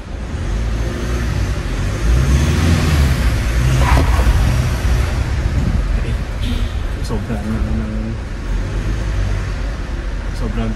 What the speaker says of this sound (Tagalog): Sobrang tayo ng RPM din.